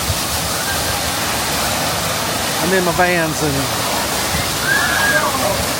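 A theme park water ride at Universal Studios Florida throws up a steady roar of rushing, splashing water, loud and continuous, while a person talks briefly over it midway.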